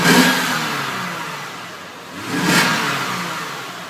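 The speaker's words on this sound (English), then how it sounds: "we'll just fire up the engine and give it a rev or two" A 2013 Lexus GS 350 AWD sedan's engine gets revved twice, each burst rising sharply and then dropping back toward idle, loud and close without talk.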